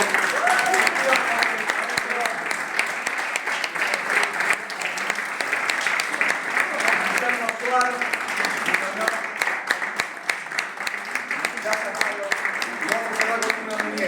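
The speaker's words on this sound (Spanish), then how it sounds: "Fuerte aplauso para el coro." Sustained audience applause for a choir at a book presentation, dense steady clapping filling the room throughout, with faint voices and cheers mixed into the crowd noise.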